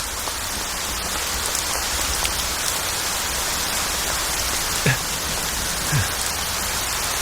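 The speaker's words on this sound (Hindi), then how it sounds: "बारिश को भी अभी आना था" Steady rain falls and patters densely on surfaces as a constant hiss, with a few louder individual drops standing out.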